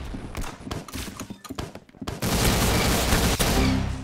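Sniper rifle fire in a Roblox zombie shooter game, with scattered sharp shots early on giving way to a dense, loud, continuous rumble of gunfire.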